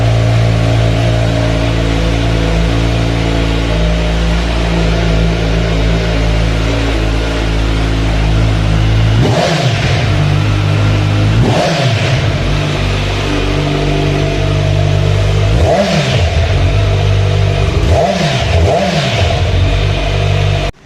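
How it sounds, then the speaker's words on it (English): A close, loud 2021 Kawasaki Z900 inline-four motorcycle exhaust idles with a steady rumble, then gets revved in about five quick throttle blips that surge and fall back. "So that was the exhaust note of the Kawasaki Z900."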